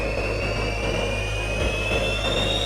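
Five small jet engines on a Gravity jet suit spool up from cold toward idle at about 30,000 RPM, a steady loud roar with a high whine slowly rising in pitch.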